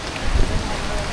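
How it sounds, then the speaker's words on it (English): Rain falling steadily at an outdoor Florida zoo near a treetop observation area, a dense close patter with a brief low rumble of movement, no talking. "We're gonna do this in the rain."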